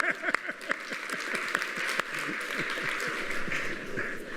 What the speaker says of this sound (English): the first thing I want to do is applaud you for being the most attentive audience I've ever witnessed